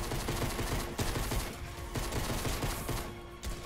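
Continuous AK rifle fire in the Fortnite zombie mode video game, a dense rapid barrage of shots that stays loud throughout with brief pauses.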